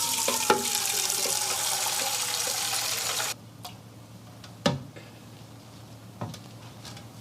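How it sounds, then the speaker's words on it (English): Water runs from a tap into a glass for a science experiment, a steady hissing stream that stops abruptly after about three seconds, followed by a few faint clinks and knocks. "Fill it with water."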